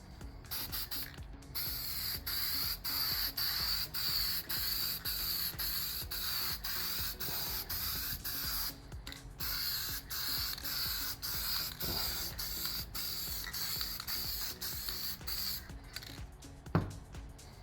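Spray paint hisses in a steady stream onto a laser-engraved wood plaque, applied in even cross-pattern coats from 6 to 12 inches away, with short pauses between passes and a small knock near the end.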